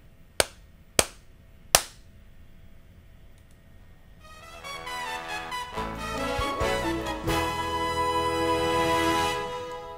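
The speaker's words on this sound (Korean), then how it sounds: "박수 세 번만 칠게요" Three sharp, evenly spaced hand claps ring out alone, followed by a swelling musical backing.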